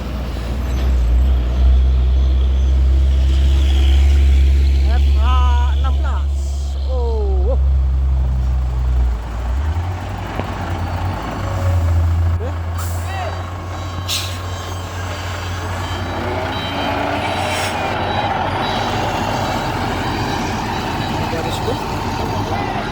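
A heavy Volvo FH16 truck engine rumbles loudly at close range while towing a stuck truck, with a few short beeping tones early on and mechanical clanks as the load shifts.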